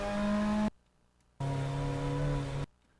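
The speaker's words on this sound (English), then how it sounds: "That was a car." A race car in a racing game roars past in two loud bursts of steady, harmonic engine drone, each about a second long and separated by a short quiet gap.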